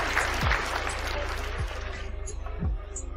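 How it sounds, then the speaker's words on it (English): Audience applause on an online call, rapid clapping of a few people at moderate level, mixed with low thumps and sliding tones, tapering off into quieter patter near the end. "Give her a round of applause, please"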